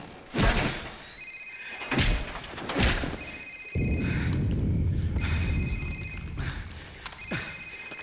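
Cell phone ringing during a Call of Duty 4 interrogation cutscene, a repeating electronic ring tone in several bursts, with thuds and a low rumble underneath.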